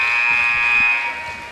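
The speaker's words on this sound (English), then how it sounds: "DeMucha, she'll launch one at the buzzer" A basketball buzzer at a girls' high school game ends the period with one loud, sustained electronic buzz. It holds for about a second and a half, then eases slightly.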